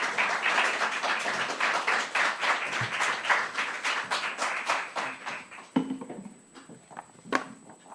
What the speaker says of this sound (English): So let's give Anna a big round of applause